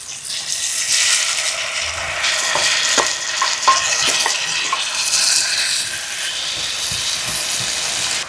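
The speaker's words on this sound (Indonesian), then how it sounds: "Udah wangi kita masukin si rebungnya." Sliced bamboo shoots hitting a hot pan of sautéed aromatics, a steady loud sizzle and hiss with stirring scrapes and clinks throughout, no talking.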